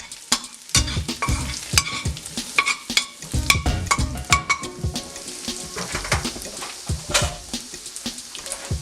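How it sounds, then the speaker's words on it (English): Chopped sage sizzles and spits in a hot pan, with a spatula stirring and scraping through it in irregular bursts. "that's what you're looking for, that sizzle right there"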